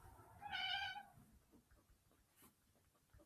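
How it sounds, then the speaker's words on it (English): A single cat meow, fairly loud and close, stretched over about half a second in an otherwise quiet indoor room. "If you heard that meow, that was Gracie."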